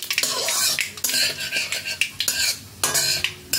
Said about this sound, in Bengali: ফোড়নটাকে কয়েক সেকেন্ড তেলের মধ্যে একটু নাড়াচাড়া করে নেব